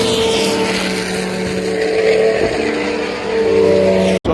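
Historic sports racing cars at Road Atlanta roar past on the track, a loud continuous engine drone that swells as they approach, then cuts off abruptly.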